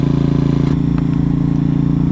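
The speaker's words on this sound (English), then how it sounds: "you'll hear the engine RPM increase" A bus engine drives a hydraulic lift as it rises, giving a loud, steady, tonal mechanical drone that shifts slightly in pitch partway through and then holds even, with no voices.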